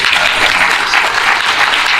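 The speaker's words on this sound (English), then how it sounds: "definitely want a big hand of applause for Patrick" A reception audience applauds loudly and steadily, dense clapping filling the whole stretch without a break, close and even in level.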